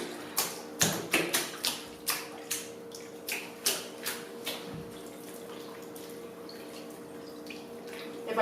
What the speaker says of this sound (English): we're going to start draining the water is going to go out